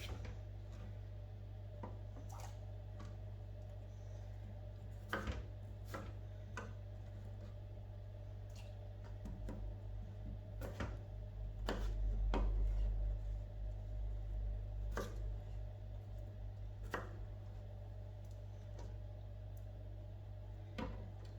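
Children chopping vegetables for a fish pie: faint, irregular knife taps on a board, spread over a low steady hum.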